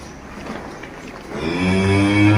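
A Jersey cow for sale on a farm gives one long, loud, low moo that rises out of quiet barnyard background noise about halfway through and carries on to the end.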